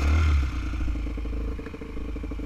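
An off-road motorcycle engine starts from hot, a loud low thump at the start and then a steady rough idle with rapid throbbing firing pulses, close by.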